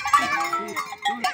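Several billy goats bleating in a herd among breeding males, a few wavering cries close by, one after another over a steady farmyard background.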